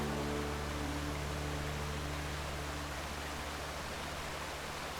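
A creek's running water rushes steadily along a flat trail near Bridal Falls, a broad, even wash that stays constant and fairly close, with a low hum underneath and no voices.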